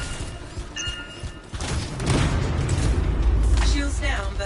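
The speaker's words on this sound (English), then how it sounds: "Explosives ready. Stand clear for detonation." Explosives detonate in the video game Anthem, giving deep rumbling booms and crashing debris that swell into a sustained low roar. Voices and game sounds run alongside.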